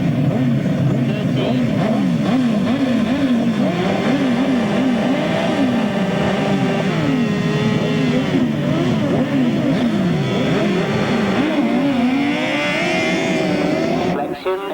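1000cc right-hand sidecar outfits race past at a track, engines revving and wailing up and down loudly as they sweep through a turn, with overlapping passes and a commentator talking over them.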